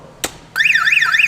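An AliExpress aftermarket car alarm siren blares up loud and close after a single short thud, its rising-and-falling electronic wail repeating steadily.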